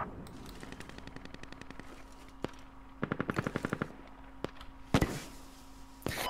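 Rapid bursts of automatic gunfire in the military shooter Squad, several short volleys separated by pauses, moderately close with sharp single cracks between them and no talk over the shots.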